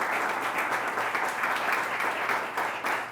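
Steady, dense applause from a studio audience at the close of a Radio Télé Caraïbe talk show, even and continuous throughout without pause.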